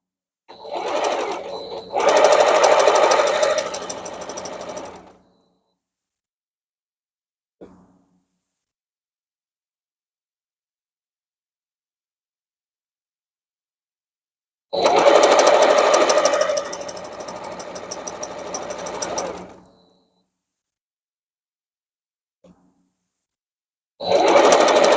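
A sewing machine stitches quilt block pieces in two loud, steady bursts of several seconds each, with long silences between them and the start of a third run at the end; no one speaks.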